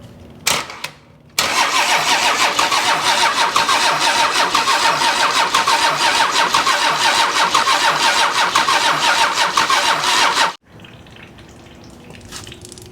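A 1986 Ford diesel engine cranks briefly, then catches and runs loudly with a rough, steady clatter for about nine seconds before abruptly shutting off, leaving quiet background afterward.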